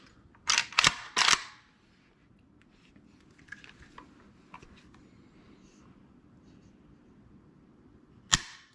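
A WBP Jack AKM rifle's trigger is pulled, giving three sharp metallic clicks in quick succession, followed by faint handling taps and one more crisp snap near the end.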